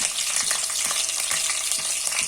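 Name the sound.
green chillies frying in oil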